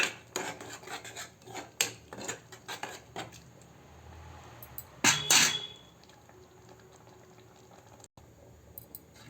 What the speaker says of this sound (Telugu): ధనియా పౌడర్ ఓసారి కలుపుకుందాం.